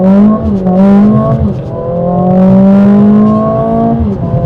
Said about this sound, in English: And then you put your foot on the brake, accelerator all the way down, launch control active.